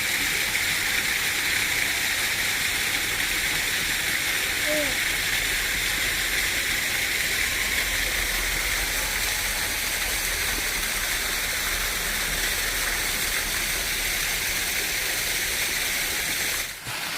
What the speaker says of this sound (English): Got us another little waterfall dumping into a pool right here.